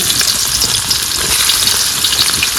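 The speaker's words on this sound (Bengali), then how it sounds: "এবার তেল গরম হয়ে গেছে এবার পেঁয়াজ ভাজা দিয়ে দিলাম" Onions hit hot oil in a home kitchen pan after fish has been fried, giving a loud, steady, dense sizzle that carries on evenly with no speech.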